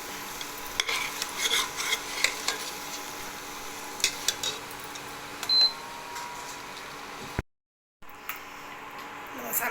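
Goat head curry masala is stirred in a pan with a steady soft sizzle, and a utensil scrapes and clinks against the metal now and then. A brief dropout breaks the sound near the end.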